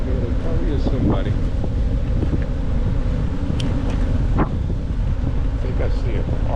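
Wind gusting across an open golf course on an autumn day, a steady broadband rumble that buffets the microphone throughout, with no pauses.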